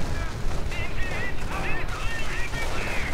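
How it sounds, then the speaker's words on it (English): A sticky bomb explodes against a mortar half-track in a World War II strategy game, with a burst of blasts and gunfire-like crackle sounding loud and continuous alongside battle noise. "Sticky bomb on the mortar half track and immobilized"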